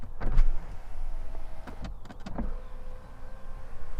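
Whirring electric motor hum of the power windows in a Chinese SUV, with a few clicks and thumps as the windows start and stop.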